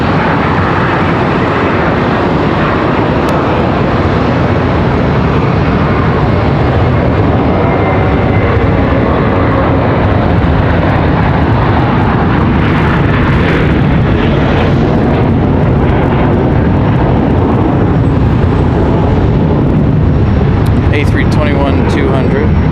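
An Airbus A321-200 airliner departs Charlotte Douglas airport with a loud, sustained engine roar that stays powerful and close throughout. A rumbling low end is steady under it, and faint voices talk nearby.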